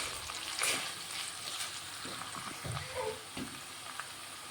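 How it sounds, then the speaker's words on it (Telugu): Fenugreek leaves fry in a pan while making a stuffed brinjal masala curry, giving a soft, steady sizzle with a few light stirring scrapes close by and no talking. "కొంచెం మెంతకూర ఒక రెండు నిమిషాలు ఫ్రై చేసుకుంటాను"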